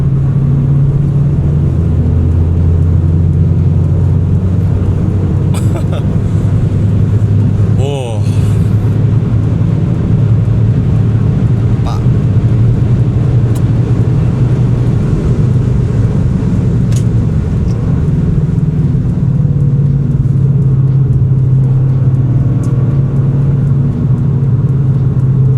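A Toyota GR Yaris accelerates on a highway, heard from inside the cabin as a loud, continuous engine drone and road rumble that rises and falls slightly. Someone talks throughout.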